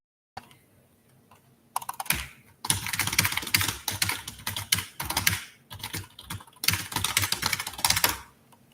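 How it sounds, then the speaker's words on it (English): Rapid typing on a computer keyboard, close by, with bursts of quick key clicks separated by brief pauses. "that was the sound of me typing"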